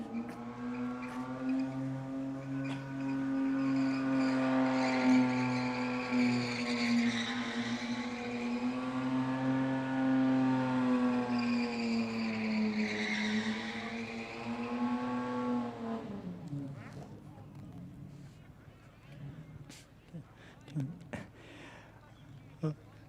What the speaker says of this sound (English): Let's see if he can get some tyres off.